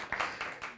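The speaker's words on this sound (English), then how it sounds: "I get just a little bit of applause" A small audience claps briefly after a magic trick, just a few scattered, soft claps lasting under a second.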